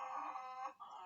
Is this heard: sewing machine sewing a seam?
no